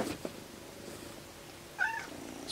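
A big, heavy domestic cat lets out one brief meow near the end, following a faint rustle at the start, in a quiet room with no speech.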